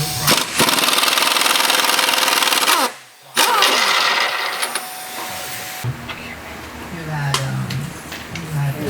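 Impact gun with a 15mm socket working shock absorber bolts on a 2007 GMC Acadia, loud ratcheting bursts with a brief pause midway, then quieter clanks and shop noise.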